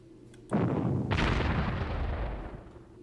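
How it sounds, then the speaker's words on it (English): An enemy unit fires on engineers in the wargame Panzer Corps: two heavy artillery-like blasts land about half a second apart, the second booming and rumbling away over a couple of seconds. "It's firing at my engineers. And it did damage."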